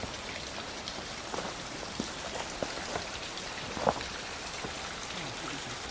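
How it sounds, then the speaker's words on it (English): Running water near an old mine in the Tamar Valley, a steady faint rush like rain or a trickling stream, with occasional small drips and knocks over it. "But I can hear the running water"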